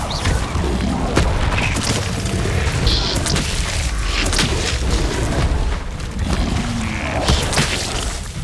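Repeated Incendio fire spells cast in the Hogwarts Legacy video game on hard mode, a dense run of loud booming blasts and crashing impacts over continuous roaring combat noise, with no let-up across the whole stretch.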